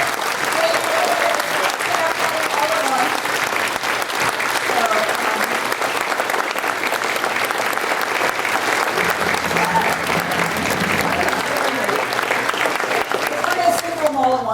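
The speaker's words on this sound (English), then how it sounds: "So let's give a round of applause." An audience claps for a staff member at a community organization gathering, sustained, dense applause at an even level throughout, with a few faint voices mixed in near the end.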